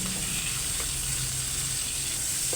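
Garlic and sliced onion sautéing in hot oil in a pan, a steady, close, loud sizzle with no pause and no voices.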